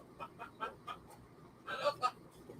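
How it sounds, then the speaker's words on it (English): Pet birds chattering indoors, a series of short bright chirps and squawks in bursts, fairly faint, with a louder cluster of calls toward the end over a quiet room background. "The birds talking."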